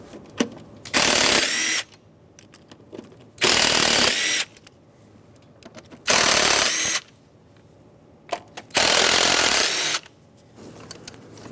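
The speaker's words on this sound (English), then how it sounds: "there are 4 8 millimeter headed bolts that we have to remove to pull the throttle body away" A power ratchet backs out 8 mm bolts from the throttle body on a 2003-2009 Dodge Ram 2500 with a 5.7L V8, four loud, whirring bursts of about a second each separated by quiet pauses and small clinks.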